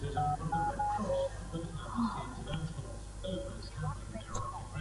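A telephone number is dialed in a scene from a 2011 Mumbai film, with a quick series of short beeping keypad tones in the first second and a few more scattered later, under people talking.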